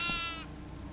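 A goat in the horror video game Devour gives a single short, loud, close bleat that cuts off abruptly, leaving low game ambience.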